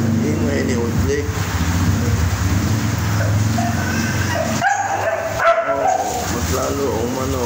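A small dog yips and whimpers excitedly, close by, with people talking over it and a brief quiet gap midway.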